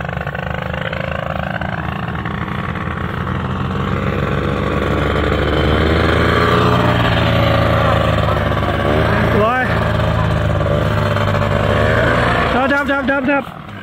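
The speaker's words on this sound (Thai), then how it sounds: "เร่งเครื่องวอร์มเครื่องนี่เลย" A paramotor engine revs during a warm-up before a flight beside a temple, a loud, near, continuous buzzing drone that swells in pitch, with a voice talking over it.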